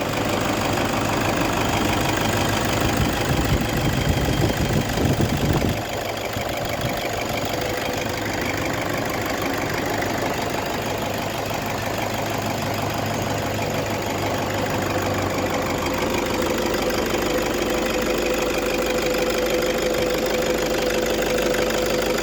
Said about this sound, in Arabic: ها الموتور الإخوان